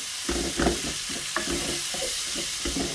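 Onions with sprigs of thyme frying and lightly caramelising in a pan for an onion gravy, a constant close sizzle broken by repeated stirring scrapes, no talk.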